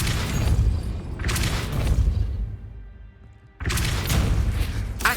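Depulso force spell cast in Hogwarts Legacy, heard as loud booming thuds: a heavy burst at the start, another around a second in, a brief lull, then a fresh loud impact near the end.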